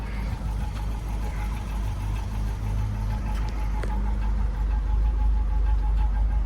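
A 1958 Mercedes 190SL roadster engine idles steadily, a low, even mechanical rumble with a faint rhythmic tick, close and continuous throughout.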